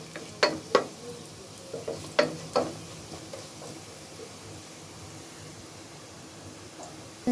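Leafy greens being stirred into fried onion and garlic in a pan, with a few sharp scraping clinks of the spoon early on over a low, steady sizzle that carries on alone.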